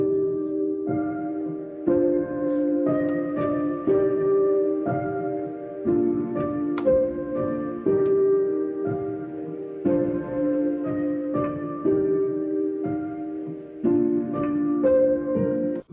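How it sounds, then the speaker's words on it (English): Lo-fi stereo imager "dimension" effect from a Zoom Sampletrak ST-224 sampler applied to a looping melodic synth or keyboard phrase, with steady two-second note patterns repeating at an even level and no voices. "The one I like the most maybe is actually dimension, which is some sort of stereo imager that's quite lo-fi in nature"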